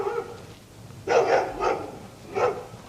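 A dog gives a few sharp barks close by, three in an uneven rhythm over a quiet background.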